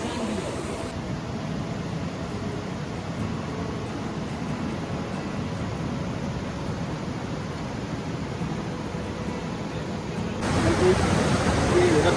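River water rushing along a riverbank on the road from Srinagar to Gulmarg in Kashmir, a steady broad hiss that swells louder for the final couple of seconds.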